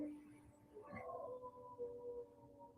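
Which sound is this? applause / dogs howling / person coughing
dogs howling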